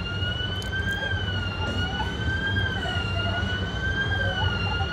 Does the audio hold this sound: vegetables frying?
no